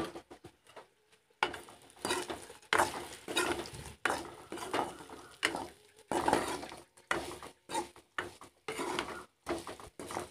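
Prawns being stirred with browned spices in a frying pan, the utensil scraping and clinking against the metal in irregular bursts over a faint sizzle, with short pauses between strokes.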